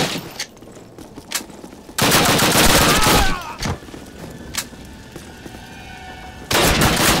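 Gunfire in the PC game Call of Duty, loud bursts of rapid automatic fire in two long volleys with scattered single shots and quieter gaps between.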